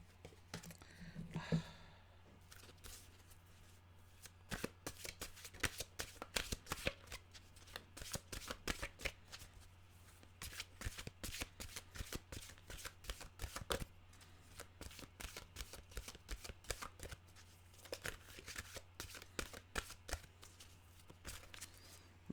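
Rapid, crisp flutters of a deck of cards being shuffled, repeated in bursts over a steady low hum, close and fairly quiet.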